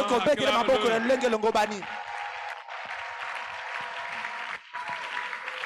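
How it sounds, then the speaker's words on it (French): A church congregation applauding during a sermon, a broad wash of clapping hands from many people heard under a preacher's amplified voice and continuing steadily throughout. "Est-ce que tu peux l'acclamer correctement?"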